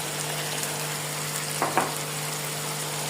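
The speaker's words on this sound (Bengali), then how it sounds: "এখন আমি এটাকে অনেকক্ষণ ধরে নাড়াচাড়া করবো, কারণ মাংস যত কষাবে ততই তার সুস্বাদু বের হবে" Mutton with chopped onions frying in a pan, a steady close sizzle with a couple of brief scraping stirs, no talking.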